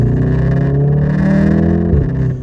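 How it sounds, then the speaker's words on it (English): A Mk7 Volkswagen Golf R with a Milltek catback exhaust and downpipe and Stage 2 tune drones loudly with a steady deep rumble, then drops in pitch as the revs fall near the end; no talk. "just listen to that exhaust"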